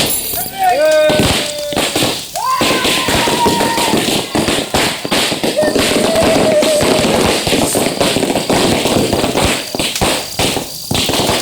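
Firecrackers burst continuously outdoors in a dense, loud crackle of sharp pops, with a few rising whistles. Voices can be heard faintly under the noise.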